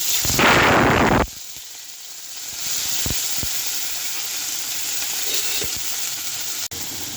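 Crushed onion and green chili hit hot white cooking oil with a loud burst of sizzling, then settle into a steady quieter fry with a few sharp knocks of utensils against the pan.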